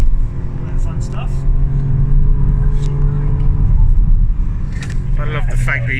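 A Holden Commodore VXR drives on Pukekohe racetrack, its engine a loud, steady low rumble heard from inside the cabin while people talk over it.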